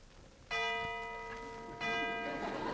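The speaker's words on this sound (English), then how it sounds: "There's the last bell." A bell rings twice as a last-bell signal in a 1948 radio drama, each strike a clear sustained tone that rings on and slowly fades, faint and alone.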